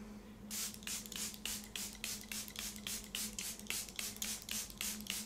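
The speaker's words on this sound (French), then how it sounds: "l'application du Airbrush Flawless Setting Spray de Charlotte Tilbury" Charlotte Tilbury Airbrush Flawless Setting Spray mists onto a face in a quick run of about fourteen short, evenly spaced pump bursts, each a soft airy hiss, close and fairly quiet over a faint steady hum.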